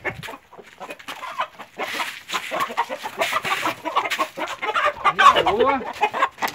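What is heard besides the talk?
Índia tupete hen clucking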